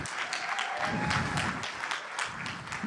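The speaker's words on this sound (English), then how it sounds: "So let's give a big round of applause for that." A church congregation at a Sunday service applauds to celebrate Pride Month, a dense, steady round of clapping that fills the room and holds evenly throughout with no talking over it.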